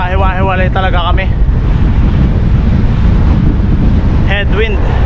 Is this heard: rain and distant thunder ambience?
no